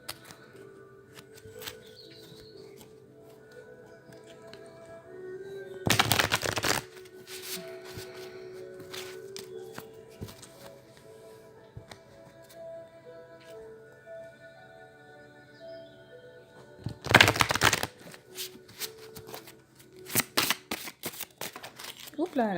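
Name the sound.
shuffling oracle cards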